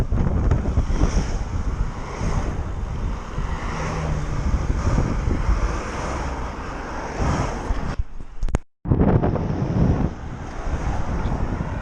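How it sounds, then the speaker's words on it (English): Strong wind buffets the microphone while a rider cycles up a hill, a loud continuous rumbling roar with a momentary dropout near the end. "that wind coming up the hill didn't make it any easier"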